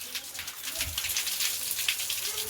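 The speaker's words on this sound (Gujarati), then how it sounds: "કેવો વરસાદ આવે છે" Steady rain falls in a village home setting, a dense, even patter of drops on surfaces that stays constant and fairly faint throughout, with no talking.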